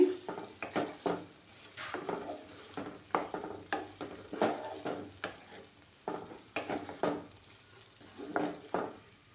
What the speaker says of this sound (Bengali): ভালোভাবে কষিয়ে নেব আমি।